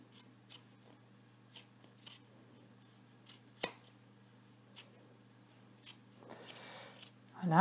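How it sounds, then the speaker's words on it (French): Scissors trim a fabric seam allowance on a blouse in a series of faint, crisp snips spaced about a second apart, followed by a brief rustle of cloth and a louder handling noise at the end. "je coupe uniquement cette marge de couture de moitié et sur tout le long"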